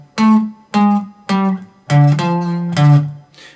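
Electric guitar playing a riff, a run of distinct picked notes in a stop-start rhythm with a couple of sustained final tones, close and clear with no talking.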